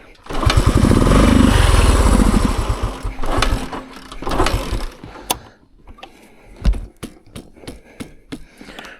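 A 50-year-old Honda enduro motorcycle engine cranks and catches, running loud and rough for a few seconds before sputtering, coughing through several uneven firing bursts and stalling into quiet.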